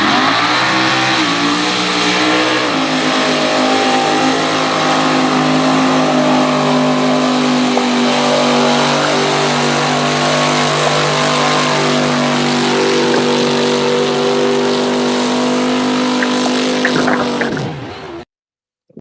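The small-block racing truck known as the Hillbilly Hustler, an old-school setup fitted with groundhogs, roars loud and steady at a backwoods race, its engine note holding for many seconds before cutting off abruptly.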